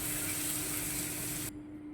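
Finely chopped tomatoes frying in oil, a loud steady sizzle and hiss that cuts off sharply near the end, leaving a fainter sizzle.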